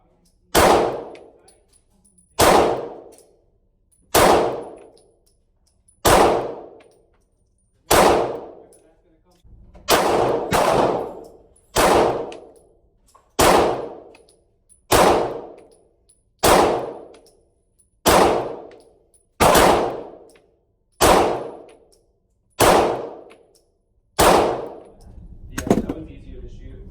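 Smith and Wesson M&P 2.0 Compact pistol fired at a range, sharp loud shots in a steady slow sequence of about fifteen, each ringing out briefly before the next.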